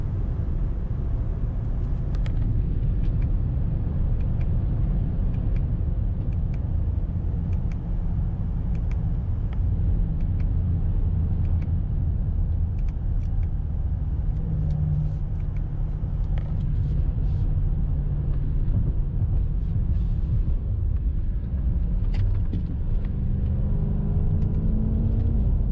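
An Italian 550 hp sports car with air suspension accelerates on the road, a steady loud engine rumble and road roar filling the interior throughout, rising slightly in pitch as speed builds.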